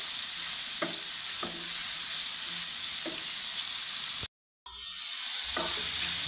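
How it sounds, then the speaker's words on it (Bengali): Sliced bitter gourd is stir-fried on high heat, giving a steady bright sizzle close by with periodic scraping strokes of a spatula through the pan, a brief dropout near the end, no talk. "হাই হিটে রেখে করলাটা নাড়াচাড়া করতেই থাকবো।"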